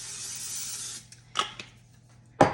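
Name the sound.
spraying coconut oil into a pot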